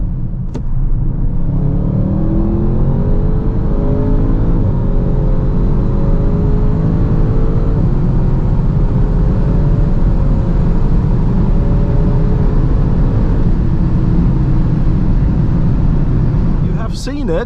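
An Audi, either an RS6, RS7 or S8, accelerates hard from 100 to 200 km/h, its engine roar loud and sustained with a steadily climbing pitch and tire and wind rumble beneath, heard from inside the car for about seventeen seconds.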